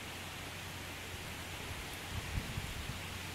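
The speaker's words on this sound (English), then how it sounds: "And now the rain is picking up again." Steady rain from Tropical Storm Bertha falling in a broad, even hiss, with a few slightly louder bursts near the end as the downpour picks up; no voices.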